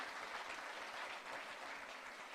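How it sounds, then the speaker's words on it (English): Audience applause fills an award ceremony honouring humanitarian work, a steady dense wash of many hands clapping at a moderate, slightly distant level with no voices over it. "Give him a huge round of applause"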